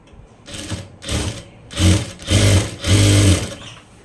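A sewing machine stitches the side joints of a blouse in short bursts, running in five separate runs that grow longer and louder, with brief pauses between them as the fabric is repositioned.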